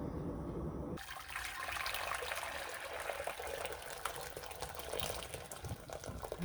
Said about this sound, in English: All right, our water is boiling.